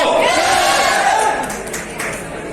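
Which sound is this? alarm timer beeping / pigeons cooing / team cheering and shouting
team cheering and shouting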